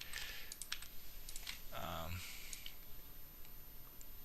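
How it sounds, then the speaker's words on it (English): Quick, light clicks of a computer mouse come in irregular clusters, faint and close over a low background hiss. "I'm just clicking."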